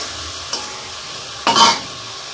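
Prawns fry in a pan, with a low background sizzle broken by two brief scraping stirs, the second louder and longer.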